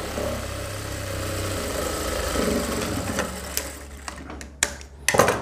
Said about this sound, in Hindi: ये डबल सिलाई लगा दीजिए